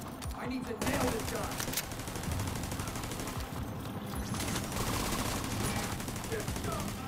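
Sustained, rapid machine-gun fire aimed at walls in the shooter game The Division 2, loud and dense bursts almost continuous throughout, with voices faintly underneath.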